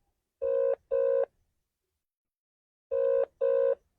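A telephone ringback tone on an unanswered prank call: two pairs of short electronic double rings separated by silence, clear and alone.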